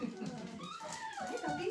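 Miniature schnauzer puppies in a litter whimper and whine in short, high, wavering cries, close by amid a faint voice.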